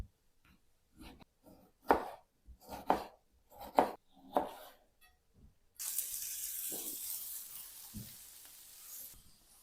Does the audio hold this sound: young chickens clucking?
no